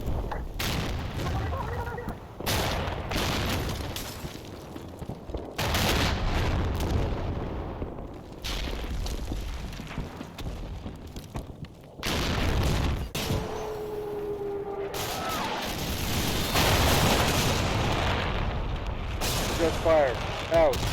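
Artillery shells land in Combat Mission Black Sea, a modern war game played in a multiplayer match. Heavy booms and rumbling blasts come in bursts through the clip, with radio-style voice chatter layered over them.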